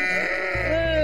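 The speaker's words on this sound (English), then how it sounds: "Now, what are we going to do with these here sheep then?" A sheep waiting by a river before being washed gives one loud, sustained, wavering bleat close by, filling the whole moment.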